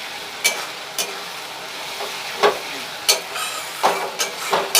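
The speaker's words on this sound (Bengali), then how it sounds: "ভালোভাবে কষাবো মশলাগুলো।" Spice paste of ground onion, ginger and garlic frying in a pan for chicken curry, a steady close sizzle broken by repeated sharp scraping stirs.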